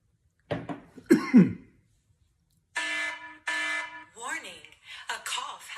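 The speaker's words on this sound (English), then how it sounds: "Warning, a cough has been detected." A couple of short, harsh coughs up close, followed by loud buzzing, alarm-like electronic tones that sound in bursts.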